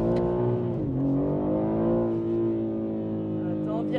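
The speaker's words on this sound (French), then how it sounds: "T'as vu comme ça chasse du cul, mais c'est une glisse contrôlée." A BMW M3 G80 Competition with a 510 hp engine revs and drifts, its engine note swooping down then climbing steadily up close, with people talking inside the car.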